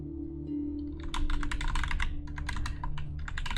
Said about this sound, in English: Sorry if all you can hear is me slamming on my keyboard.